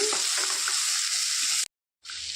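Snake gourd pieces stirred in a hot frying pan for a curry give a loud, bright continuous sizzle with soft scraping, briefly cut to silence before the frying hiss resumes, no talk.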